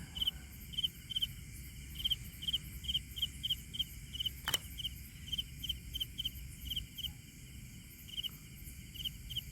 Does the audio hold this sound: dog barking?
no